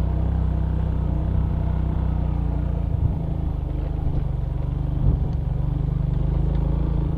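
A Suzuki Smash Revo motorcycle grinds uphill on a muddy off-road trail, its engine droning steadily and loudly throughout with a low rumble and occasional clatter from the rough ground.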